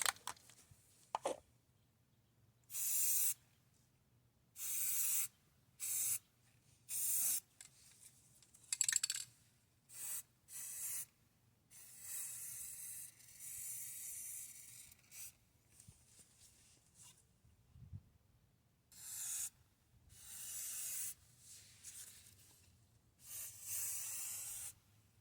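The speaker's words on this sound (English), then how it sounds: "spray some of this Rust-Oleum" Rust-Oleum rust protection sprayed from an aerosol can onto a warped brake rotor during a Brembo caliper brake job, in a dozen or so short hissing bursts with quiet gaps between, close and fairly loud.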